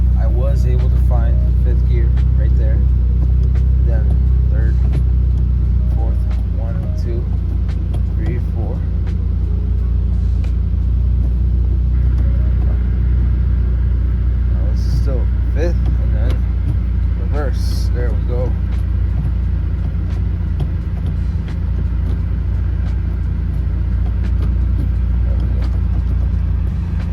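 A Mitsubishi Evo X with a newly installed short shifter is driven around, a continuous low engine and road rumble heard from the cabin, with occasional small clicks and knocks from inside.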